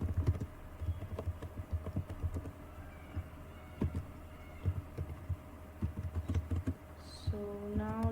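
Keystrokes on a computer keyboard while HTML is typed, close and clear in irregular bursts of clicks, with a brief electronic chirp near the end.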